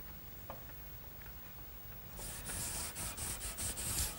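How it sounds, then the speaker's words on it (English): Hand sanding mahogany with 220 grit sandpaper, quiet at first with faint rubbing, then a series of rhythmic back-and-forth strokes, soft and close, heard alone. "some final sanding with some 220 grit sandpaper"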